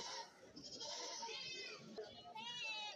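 Goats and young kids bleating at a rainy goat market in Kerala, several overlapping cries, fairly faint with crowd murmur and voices mixed in.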